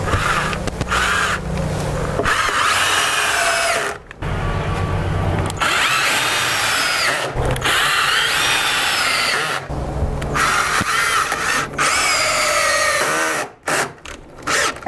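Power drill driving screws into a garage storage shelf, loud and close, whining in several long bursts with brief pauses between them and a few short final pulses.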